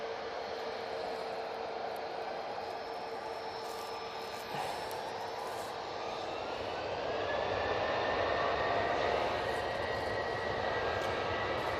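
A TUI passenger jet departing Manchester Airport for Rhodes, a distant, faint engine roar and whine that swells gradually as the aircraft powers up and climbs away.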